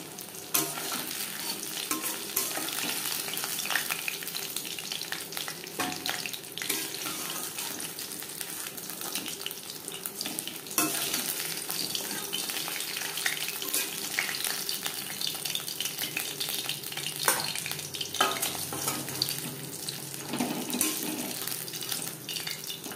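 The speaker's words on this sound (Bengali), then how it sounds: "উল্টে পাল্টে দুটো সাইড লালচে করে ভাজা হয়ে গেছে," Crispy fish fry, browned on both sides, crackling in a pan with a steady, dense sizzle for the whole stretch and occasional small stirring sounds, with no talking.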